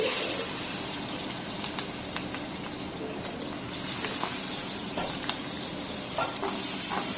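Green chilies and onion fry in the oil left from frying pangas fish, a continuous close sizzle with scattered small crackles and pops throughout, no talking.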